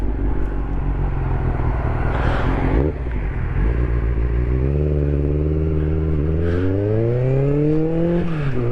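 A Honda CB400 Super Four motorcycle engine running close by, a loud steady idle rumble that rises and falls in pitch as the throttle is blipped, with no talking.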